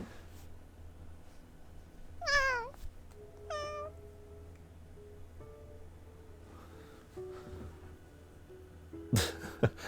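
A pet cat meows twice, clear and close, with a short pause between the cries, then rustling and a brief sharp noise in an otherwise quiet room.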